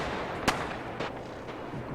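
Gunfire in the military shooter Arma 3: one sharp, loud shot rings out, followed by a couple of fainter, more distant reports over a low ambient background, with no talking.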